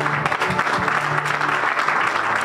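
Church congregation clapping together in acclaim to God at the close of a prayer meeting, a dense, steady wash of applause with a few voices mixed in, loud and continuous throughout.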